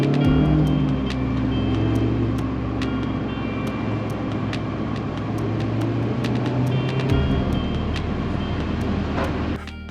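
Mazda MX-5 with a Skyactiv-G 2-litre four-cylinder engine running steadily at a constant drone, close and loud, with faint ticks and a brief drop near the end; no talk.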